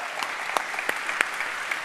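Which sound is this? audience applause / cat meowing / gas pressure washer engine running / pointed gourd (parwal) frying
audience applause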